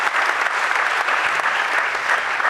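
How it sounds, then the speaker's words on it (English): Dense, continuous applause from a crowd at a regional renewable energy challenge for senior high school students, even and full-bodied throughout with no voices standing out. "One more time, a round of applause for all of them."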